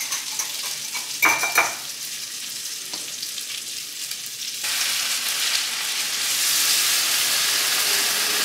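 Gravy for a Salisbury steak dinner sizzles steadily in a pan as it is stirred, with a few scraping clinks of a utensil early on, then a louder, broader hiss of frying and steam building toward the end, close and with no talking.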